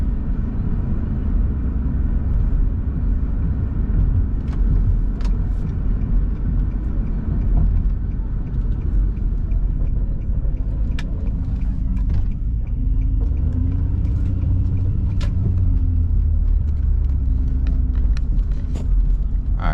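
A car drives through a neighborhood with a loud, steady low rumble of engine and tires that continues throughout. Occasional faint clicks and rattles sit over it, and a few rising engine notes come through near the end.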